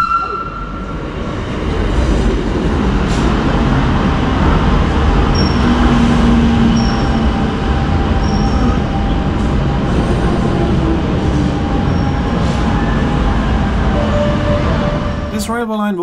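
Montserrat rack railway train pulling into the monastery station, a steady close rumble of wheels and motor with faint high squeals, running continuously and easing off near the end.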